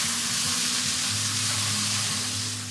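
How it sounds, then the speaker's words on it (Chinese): Prawn heads and onion sizzle steadily in a stainless steel pan as a splash of wine goes in to deglaze, a close, continuous frying hiss with no talk. "然後我就加少少酒 deglaze 下去"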